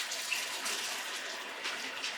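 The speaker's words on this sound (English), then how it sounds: "Time to strain the water out of the pasta noodles" Water from a pot of pasta noodles pours out in a steady broadband rush while being strained, with no speech over it.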